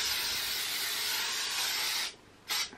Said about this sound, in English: I'm going to use this Design Me Hold Me 3 Ways hairspray